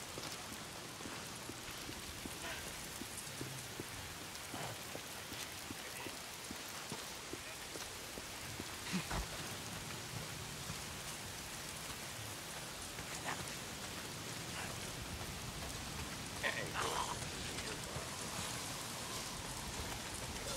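Steady rain falls without pause in the open-world zombie game Days Gone, a dense, even hiss of drops on surfaces that stays at a constant level throughout, with a few faint scattered knocks.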